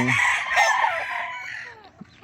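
A rooster crows once nearby in a backyard farm in Ilocos Norte, a loud drawn-out call that trails off, followed by a brief quiet cluck.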